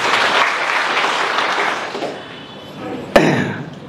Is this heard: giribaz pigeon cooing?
no